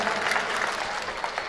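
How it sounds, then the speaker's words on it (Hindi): An audience claps through a Rajasthani comic poetry show, a dense, steady wash of applause from a close crowd filling the whole short stretch. "ताली बजा दो यार,"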